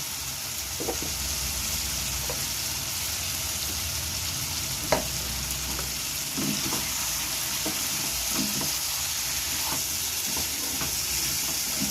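Papaya pieces fry in a pan of spiced mutton curry masala, giving a steady broad sizzle throughout with scattered scraping stir knocks, one sharper clack near the middle.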